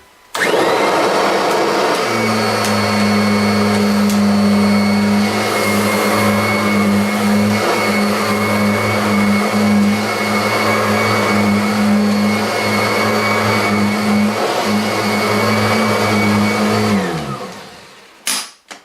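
A Kirby upright vacuum cleaner roars steadily at close range during a sand pickup test, a loud constant motor whine that runs for most of the clip before shutting off.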